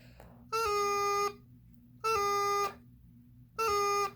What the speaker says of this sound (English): what we're going to be doing here is a G grace note to F